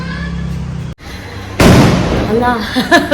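Firecrackers go off during an Eid celebration: a sudden loud burst crackles and fades away amid nearby voices and talk.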